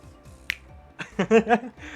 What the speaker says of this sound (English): You couldn't see, but I did my finger snap finger guns.